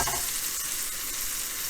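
Shrimp sizzle and fry steadily in a hot pan while browning for a redfish and shrimp courtbouillon, a close, continuous crackling hiss with no talking.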